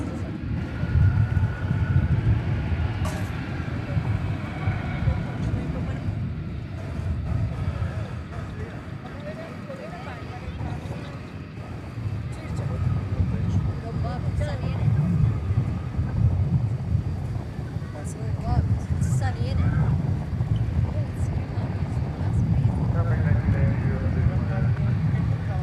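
An Embraer 175 airliner at DFW Airport after dark, bound for Albuquerque, gives a steady low engine roar that swells and holds, with wind noise and a voice talking over it.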